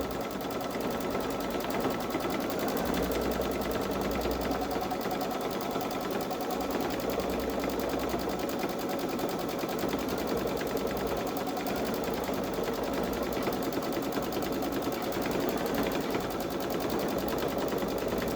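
A Babylock Solaris 3 sewing machine stitches edge-to-edge quilting on a sweatshirt, giving a continuous fast mechanical whirring buzz that stays steady and fairly loud throughout, with no talking.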